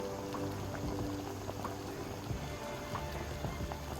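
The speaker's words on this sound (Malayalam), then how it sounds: "ഇത് വെന്ത ശേഷം വെള്ളം അരിച്ച് മാറ്റിയിട്ട് വെക്കാം" Water strained off boiled butter tapioca for a Kerala dish, heard as a soft, continuous pouring trickle, fairly faint and close, with no speech.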